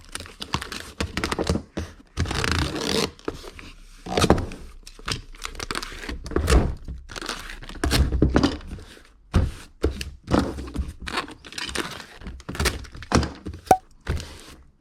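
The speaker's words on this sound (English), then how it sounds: "And then I'm going to go ahead and get this taped up." Packing tape is pulled and pressed onto a shipping box, with repeated ripping, crinkling and thumping handling noises in irregular bursts at close range, with no talk.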